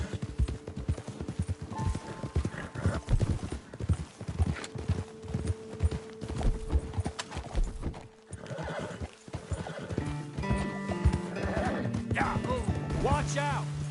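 A horse in the Red Dead Redemption II western game clip-clops at a steady trot, then whinnies and neighs loudly near the end, with people talking over the hoofbeats and a brief crash.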